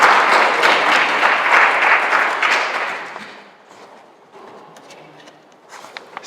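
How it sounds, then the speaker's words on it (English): A crowd at an Indigenous student graduation ceremony claps loudly and densely, the applause tapering off after about three seconds into scattered claps and quiet room noise. "Give Nathaniel a round of applause."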